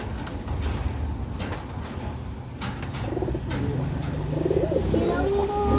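Pigeons coo in low, soft repeated calls, fairly close, over a background of outdoor noise and brief voices.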